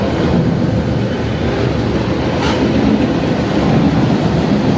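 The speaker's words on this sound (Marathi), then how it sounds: "आणि समोर ट्रेन चालली आहे." A long train rolls past near a highway underpass tunnel in rainy Oregon, a loud, steady rumble with continuous rattling wheel noise filling the whole stretch without pause.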